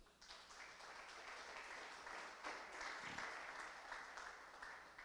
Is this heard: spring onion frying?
no